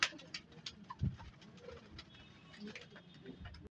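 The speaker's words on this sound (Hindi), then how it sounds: "बहुत प्यारी कबूतरी है" Soft cooing from a female Ferozpuri high-flying pigeon repeats close by, with light rustling and faint background chatter of other birds.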